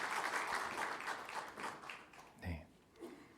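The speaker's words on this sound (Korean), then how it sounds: "우리 박수로 환영하도록 하겠습니다" Church congregation applause welcomes new members at a Sunday service, a fairly faint, brief burst of clapping that fades quickly, followed by a couple of short voice sounds.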